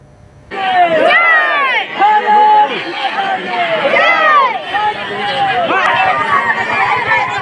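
Thousands of villagers in Bankat crowd together as a CRPF jawan's body arrives for a state-honours funeral, loud massed voices chanting and shouting in rhythmic waves close by after a quiet opening.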